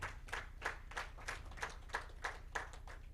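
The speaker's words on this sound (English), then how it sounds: "Please clap for him." Audience at a university mentorship programme clapping in a faint, slow, even rhythm of separate claps, roughly ten in three seconds.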